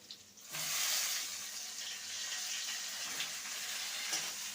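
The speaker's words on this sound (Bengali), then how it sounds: "আলুটাকে সুন্দর করে ভেজে নিয়েছি এবারে শিমগুলো এর মধ্যে দিয়ে দেবো" Beans tipped into a pan of frying potatoes set off a sudden loud, close sizzle that holds steady and bright for several seconds, with no voices.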